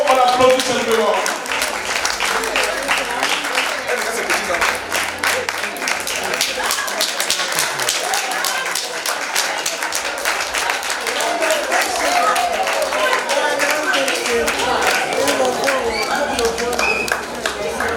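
Guests at an 83rd birthday celebration clapping steadily as the matriarch passes by, a long run of close, crisp handclaps from a crowd with voices and movement mixed in.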